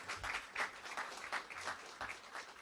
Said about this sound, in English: Yes, let's applaud them.